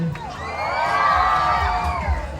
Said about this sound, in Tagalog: Maaari rin po ba akong humingi ng isang lakas na hiyawan?